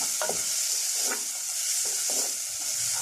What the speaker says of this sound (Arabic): نجيب حاجة نقلب بيها البصل حتت